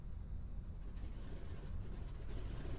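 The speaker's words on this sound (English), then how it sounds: "Get that engine started." An aircraft engine in Flight Simulator X drones at a low, steady idle, faint and distant, with no distinct start-up bursts.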